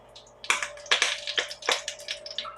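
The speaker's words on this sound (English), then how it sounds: "And you hear that crackle and that sizzle?" A touch of water dropped into hot oil in a pot before searing beef for pot roast pops and crackles in a quick run of sharp, close bursts over a faint sizzle.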